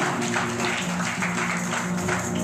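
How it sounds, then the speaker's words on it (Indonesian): A church congregation gives loud, sustained applause, a dense wash of clapping that fills the whole stretch with a faint steady tone underneath. "Berikan tepuk tangan yang meriah buat Tuhan."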